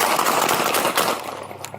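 Rapid volley of police gunfire during an armed robbery arrest, many shots fired in a dense, loud burst that trails off into quieter scattered noise.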